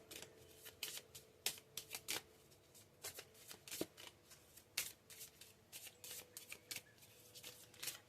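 Small chakra cards shuffled close up for a pick-a-card tarot-style reading, producing a steady run of quick papery riffles and flicks with brief pauses, quiet and alone with no talking.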